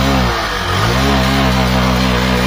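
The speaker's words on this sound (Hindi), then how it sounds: "ये देखिए गाड़ी स्टार्ट हो गई आपके।" A Hero Passion Pro BS6 motorcycle with a fuel pump problem running loud and close, its engine catching and climbing into a continuous rev with a brief dip early on, with no voices.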